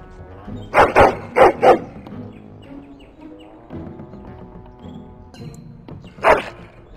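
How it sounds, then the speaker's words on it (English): A hound barking in the fantasy game Dragon Age Origins: a quick run of three sharp barks, a softer bark or two after a pause, then one more loud bark near the end, close and clear. "Oh, encourage the hound, why don't you?"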